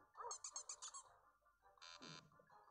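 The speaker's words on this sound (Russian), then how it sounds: "Какая злая собачка." A small dog in a mobile phone game barks a few times in quick succession, sharp and high-pitched, followed by a synthetic electronic tone; faint talk around it.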